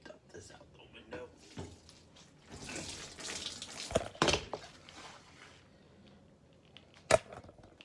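Water from a washing machine is dumped out of a window in a short splashing rush, with a few brief sharp bursts against quiet room noise and faint voice sounds.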